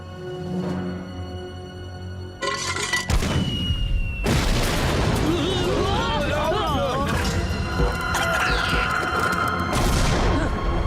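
Gunfire and explosions from an animated Slugterra episode: a loud boom, then sustained crashing blasts and rapid firing that continue through the scene, with character voices shouting over the battle.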